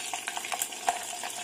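Garlic cloves dropped into hot oil with fried vadagam for a vathal kuzhambu curry, a brief close crackling sizzle with a few quick stirring taps.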